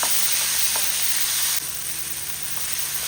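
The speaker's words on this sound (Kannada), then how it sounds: "ಈರುಳ್ಳಿಯನ್ನು ಚೆನ್ನಾಗಿ ಫ್ರೈ ಮಾಡಿ." Onions fry in a pan with a dense, even sizzle that holds steady for about three seconds, dropping slightly in level midway with no talking.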